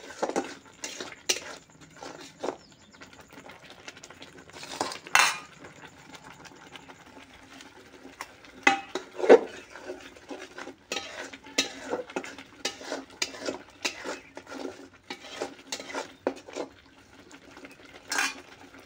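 Spice masala fried and stirred in oil for a potato curry, with repeated metal scrapes and clatters of a ladle against the pot over a faint sizzle, close and irregular, no speech.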